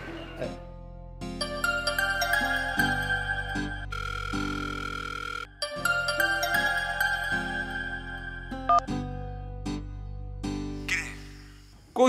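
A mobile phone ringtone for an incoming call plays a bright electronic melody of sustained, chord-like tones that repeats in phrases. It is loud, continuous and close for about twelve seconds, with no talking.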